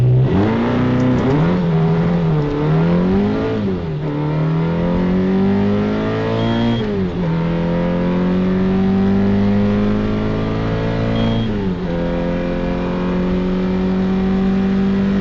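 A TVR 4.2-liter V8 engine revs repeatedly, rising and falling in pitch with a deep burbling tone, loud and close, then settles into a steady idle.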